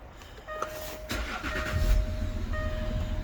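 Jaguar XF engine running with a blowing exhaust: a quiet lead-in, then a low, beefy rumble that swells after about a second and holds steady, heard up close.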